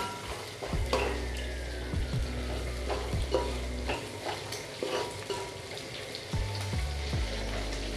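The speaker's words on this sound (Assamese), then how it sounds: "আৰু এতিয়া মিক্স কৰি দিম, এইখিনি অলপ ফ্ৰাই কৰিম" Meat masala and spices frying with stirring in a pan for an Assamese fish curry: a steady loud sizzle broken by repeated scraping strokes of a spoon, with no talking.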